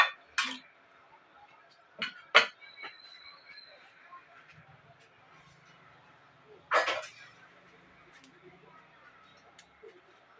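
Sharp metallic clinks of a lid set over a pot of boiling potatoes, a few distinct knocks spread out against a quiet kitchen background with a soft low bubbling.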